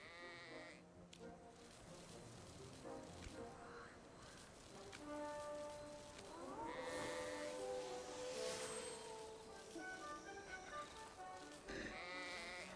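Sheep bleating in the video game AFK Journey, several wavering bleats rising over layered game music and ambience, moderately loud and mixed with other effects.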